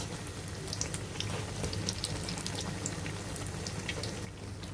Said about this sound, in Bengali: এভাবে আমরা চারটে চারটে করে ভেজে নিব।